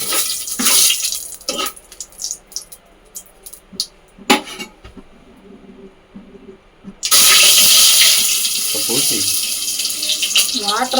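Water is poured into a cooking pot in a home kitchen, a loud steady rush starting partway through and continuing to the end, after quieter clatter and brief speech.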